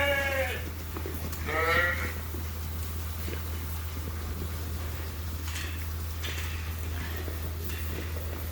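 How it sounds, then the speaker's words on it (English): Ewes and lambs in an old sheep barn at the feeder, with a couple of clear bleats early on and fainter ones later over a steady low hum and general barn rustling. "that put all the ewes in the feeder, and it started some lamb races up front"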